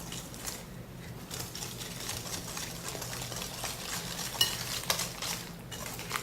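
A spoon stirs a thick cookie salad mixture in a bowl, making a soft, continuous scraping and squelching with light clinks against the bowl. It is fairly quiet and carries on steadily for several seconds.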